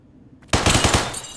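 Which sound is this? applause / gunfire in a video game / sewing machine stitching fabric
gunfire in a video game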